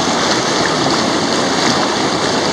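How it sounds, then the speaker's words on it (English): Whitewater pours over a rock in a river, a loud, continuous broadband rush and churn that holds steady throughout with no voices. "the water coming over a rock, pour over"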